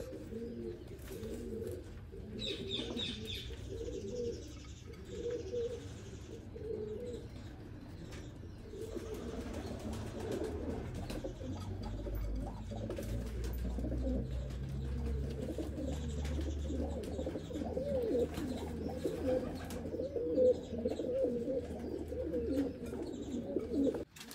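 Pigeons coo continuously in a loft, several birds overlapping in low rolling calls close by, with occasional chirps and a brief flutter of wings.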